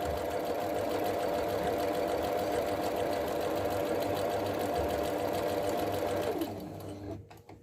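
A Juki HZL-S560 sewing machine runs a triple stitch, close and loud with a dense, continuous whir. The whir holds for about six seconds, then slows and winds down to a stop.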